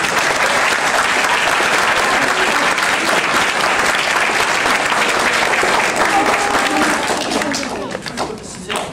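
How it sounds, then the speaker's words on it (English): A crowd of parents and staff applauds a children's school assembly, dense and sustained clapping that stays loud before thinning out near the end, with faint voices mixed in. "I think we should give them another round of applause."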